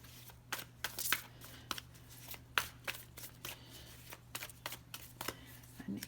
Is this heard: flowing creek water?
no